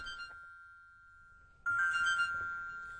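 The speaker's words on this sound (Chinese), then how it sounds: "小周来的电话" A phone ringtone plays for an incoming call, a steady electronic tone sounding alone and fairly loud, then growing fuller and louder partway through as the melody continues.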